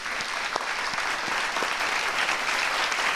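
An audience at a classical dance festival applauds young dancers, a continuous, even wash of clapping from many hands throughout, with a few sharper claps near the front.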